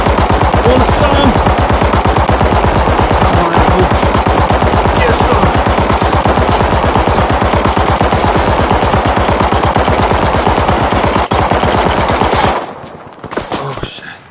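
Sustained automatic gunfire from a rifle in the VR shooter Zero Caliber, a loud, rapid, unbroken stream of shots that stops abruptly near the end, followed by a few faint clicks.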